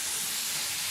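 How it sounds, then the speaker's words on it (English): Peppers and onions sizzle in sweet barbecue sauce in a hot pan, a brief, loud, steady hiss up close. "I'm going to add in a little bit of our sweet barbecue sauce. And that's going to sizzle."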